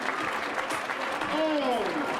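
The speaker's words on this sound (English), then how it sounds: "The crowds have gathered. The cheers and the applause is there for the winner of the race," Crowds cheer and applaud for the winner at the finish line of an elite women's duathlon sprint race, a continuous loud roar with a commentator talking over it.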